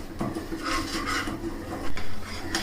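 Sugar melting into caramel for sheer khurma, stirred continuously in a metal pan: a steady close scraping and rubbing of a spoon against the pan bottom, with soft clinks, running without pause.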